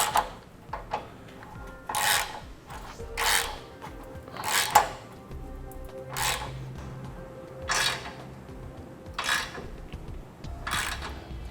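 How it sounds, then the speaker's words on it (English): A 3/4 inch socket tightens the bolts of a Curt trailer hitch receiver on a 2007 Ford Explorer, making repeated rasping ratchet bursts with short pauses between them, close and moderately loud. "we can go ahead and tighten it down using a 3/4 inch socket"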